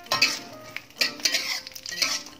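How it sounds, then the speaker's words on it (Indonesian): Chili peppers fry in a pan on a stove, with soft sizzling broken by repeated metallic clinks and scrapes of a utensil stirring against the pan. "kita goreng cabenya dulu ya"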